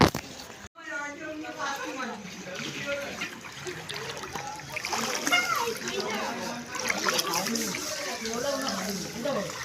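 Floodwater from Cyclone Michaung splashes and trickles inside rooms in Chennai, with sloshing and dribbling, while people, including a child, talk over it nearby.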